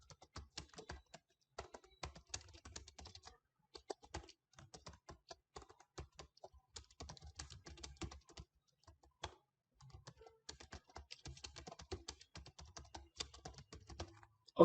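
Steady typing on a computer keyboard while an email is written, with rapid clicking keystrokes in bursts and short pauses, close and fairly quiet.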